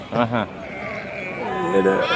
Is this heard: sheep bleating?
yes